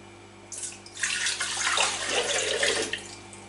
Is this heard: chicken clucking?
no